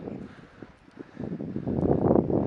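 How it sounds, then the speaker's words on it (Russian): Wind gusts across an open field near Barvenkovo, a low, rumbling buffeting that swells and grows stronger toward the end. "За моей спиной ветер."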